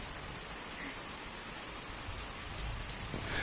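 Steady rain has been falling since the night before, giving a continuous even patter and wash at moderate distance with a faint rise toward the end and no voices.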